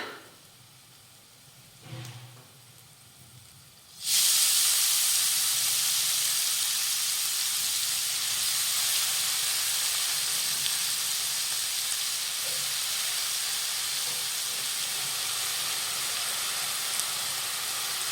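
Shredded cabbage drops into a hot pan of oil with green chilli, asafoetida and turmeric for a Maharashtrian cabbage bhaji. After a few quiet handling sounds, a loud, steady sizzle bursts in and hisses on without pause.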